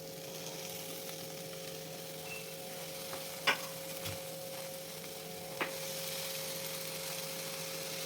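Chopped fenugreek leaves being stirred in a frying pan, giving a soft, steady sizzle with a couple of brief scraping clicks from the spoon and no talking.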